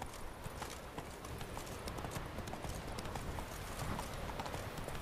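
Steady, fast hoofbeats of Geralt's horse Roach trotting in The Witcher 3, close and continuous against a dense wash of ambient game noise.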